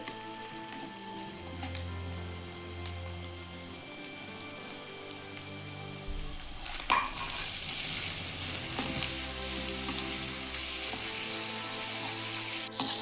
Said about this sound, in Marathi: तर त्यात टॉमॅटो टाकून घेते